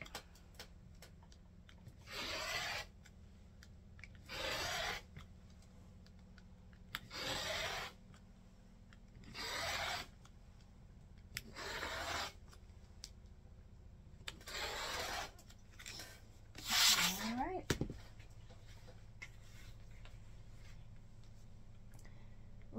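Rotary cutter slicing cotton fabric into 2.5-inch quilt strips, about seven separate rolling cuts spaced a couple of seconds apart, close and moderately loud over quiet room noise, with no talking.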